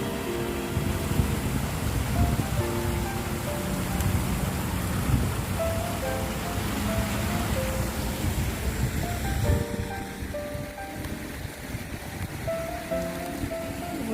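Steady rain falls outdoors at the Chi Lin Nunnery in Diamond Hill, Hong Kong, a dense continuous hiss of drops on surfaces that holds throughout and thins slightly toward the end, with faint tonal sounds mixed in.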